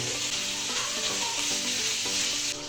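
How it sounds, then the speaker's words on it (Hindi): Mutton tilli cooks with chopped tomatoes and spices in a pan, a loud, close, steady sizzle with stirring scrapes throughout and faint music underneath, no talk. "अब हम इसको अच्छी तरह से भूनेंगे"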